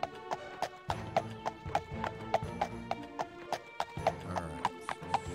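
Horse hooves clip-clopping in Daggerfall Unity, a steady rhythmic series of sharp hoof clops at a walking pace over low game ambience, close and distinct.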